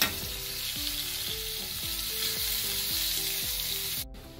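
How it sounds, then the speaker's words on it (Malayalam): Chicken pieces with ginger, green chilli and garlic sizzle loudly in a pan for a Kerala chicken perattu, with a steady rhythmic scraping as a utensil stirs and mixes them, no voices present. "ഇതെല്ലാം കൂടെ നന്നായിട്ട് മിക്സ് ചെയ്യാം."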